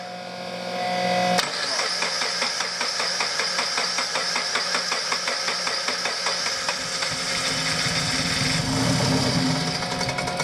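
An engine is cranked at half throttle: after a sharp click the starter whirs in a fast, steady rhythmic chugging that continues loudly and close without catching for about nine seconds.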